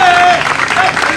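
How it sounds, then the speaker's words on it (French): Applause from a wedding audience, steady clapping throughout with a tone beeping briefly; loud and close, no pauses. "Applaudissez pour ce couple."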